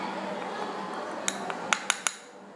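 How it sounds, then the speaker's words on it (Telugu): A pinch of ammonium chloride and table salt is mixed in a china dish, and a handful of light, crisp clinks of a tool against the dish sound in quick succession toward the end. "Mix the two salts."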